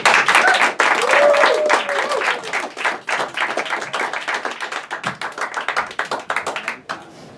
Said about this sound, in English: I want everybody to give a big PRC round of applause to our special guest